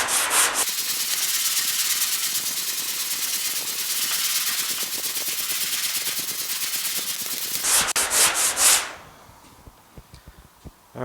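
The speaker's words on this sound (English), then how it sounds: "we got some 100 grit on here. Kind of a long block for this, but I'm going to go ahead and try to use it" Close, steady scraping of 100-grit sandpaper on a long block across body filler on a GTO door, a continuous rasp for several seconds that ends in a few quick strokes before falling quiet.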